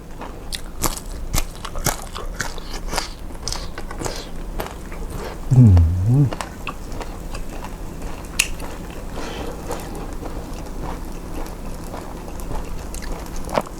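Crisp crunchy bites and chewing of pan-grilled bacon, a series of sharp close crackles spread across the clip with a brief voiced murmur in the middle.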